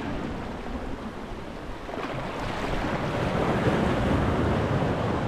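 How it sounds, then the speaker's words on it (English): Strong wind whipping across a seaside rock-fishing spot near a marina, a loud, steady, buffeting roar mixed with surf, with no voices. "That wind is absolutely whipping."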